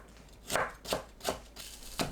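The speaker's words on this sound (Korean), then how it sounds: "당근을 곱게 채 썰어주세요." A knife finely julienning carrot on a cutting board, with five distinct crisp chops in an uneven rhythm, close and clear with no talking.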